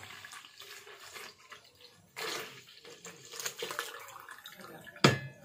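Liquid is poured into a mug, producing uneven splashing and trickling bursts close by, ending with a sharp clink or knock.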